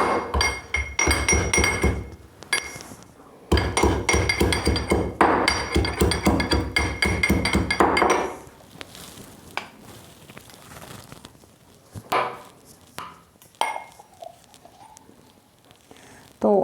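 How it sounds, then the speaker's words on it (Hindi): Fresh ginger for tandoori chai is pounded in a mortar, giving a run of loud, rapid knocking and clinking strikes for several seconds, a short pause, then a second burst before quieter scattered taps. "इसमें डालेंगे हम थोड़ा सा अदरक को कूट कर।"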